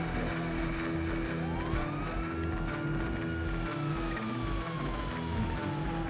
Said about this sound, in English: Did you realise with my sirens on, they move out the way?